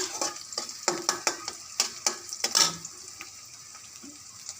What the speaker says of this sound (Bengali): প্রথমে পেঁয়াজগুলো বেজে নিয়েছি